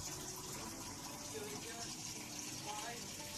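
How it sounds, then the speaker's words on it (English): Boiling water poured over white oats in a cooking pot, a steady splashing gush of liquid heard close up throughout, with a faint voice speaking underneath. "Now this is boiling water added on the top"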